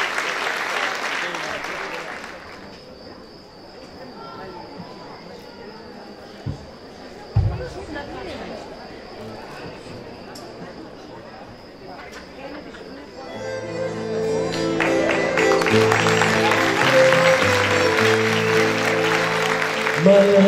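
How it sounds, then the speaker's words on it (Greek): An audience at a charity concert applauds as the musicians are welcomed. Scattered clapping and murmuring fade into a quieter stretch with a steady tone, then the band starts playing and clapping swells under the music. "Νέα παιδιά, χειροκροτήστε τα και να τα υποδεχτείτε."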